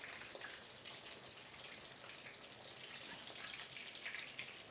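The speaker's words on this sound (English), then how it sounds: "So you can see how quickly these fry up." Breaded Jaeger schnitzels fry in hot oil with a steady, dense crackle and hiss that holds at an even level throughout, close up and without any talking.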